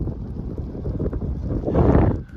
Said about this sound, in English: A lot of wind, so here we go.